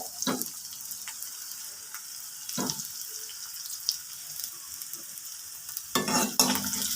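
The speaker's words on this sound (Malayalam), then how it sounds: "ഒന്ന് ഇളക്കി കൊടുക്കാം" Crushed dried red chillies and bird's eye chillies sizzle in a hot pan, a steady faint frying hiss broken by a few sharp scrapes of stirring, the last one louder and longer.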